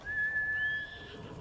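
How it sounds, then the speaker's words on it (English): A horse whinnies in the video game Ghost of Tsushima in a long, high, drawn-out call, fairly loud and clear, with a quieter tail trailing off at the end. "Horse!"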